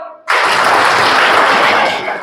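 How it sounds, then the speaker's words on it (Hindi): Loud, dense clapping from a student audience at a polytechnic mental health awareness program, bursting in abruptly and holding steady before easing slightly at the end. "इनके लिए ताली बजाओ"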